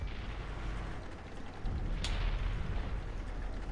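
Tank cannon fire in a video game, a single loud boom around the middle of the clip over a steady low rumble of engine and battle noise, with no talk.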